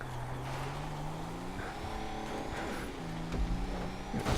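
An off-road truck engine in Grand Theft Auto V drones at moderate level, its pitch climbing and dipping as the throttle is pushed during a race, with a few thuds and bumps.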